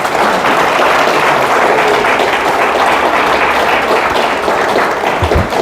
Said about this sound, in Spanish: Dame un aplauso de alabanza al Señor